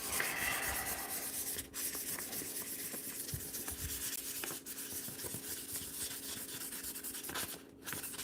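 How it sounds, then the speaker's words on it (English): Metal lock scales for locksport being sanded with coarse, rough-grit sandpaper: a quiet, continuous rasping rub in steady back-and-forth strokes, with brief pauses between passes. "I'm gonna go with the deep sandpaper first. I'm gonna hit it with that 15. Make it rough."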